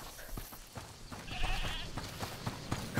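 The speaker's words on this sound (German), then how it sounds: "Hört mal, ist das die Ziege, die er meinte?" A goat in the video game A Plague Tale: Requiem gives a faint, quavering bleat. The cry is brief and sits low within the surrounding ambient noise.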